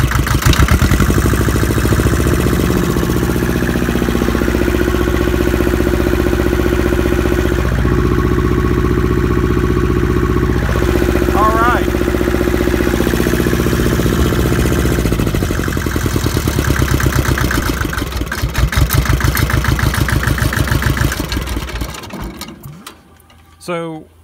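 The engine of a Massey Ferguson MF210 tractor runs loud and close, a steady, droning mechanical rumble that holds for most of the clip before slowing and cutting out near the end.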